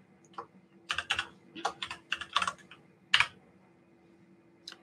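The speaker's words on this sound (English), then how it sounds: "so I'm going to type in something here" Typing on a computer keyboard while entering text into SystmOne software, heard as irregular bursts of close, crisp key clicks with short pauses between them in a quiet room.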